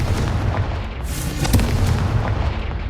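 Confringo blasting spell fired in Hogwarts Legacy on PS5 Pro, a loud booming explosion with sharp bursts around the middle over a sustained low rumble.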